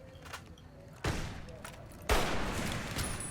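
Gunfire in the video game Fallout New Vegas, two sharp loud shots about a second apart over a low ambient game background.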